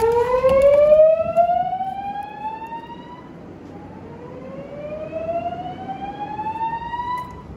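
A loud electronic dormitory fire alarm siren during a test, with repeated rising sweeps, sounding alone and fairly near without any talk.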